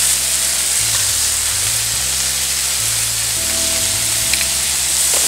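Food sizzles loudly and steadily in a frying pan on the stove, a dense crackling hiss close by with no talking.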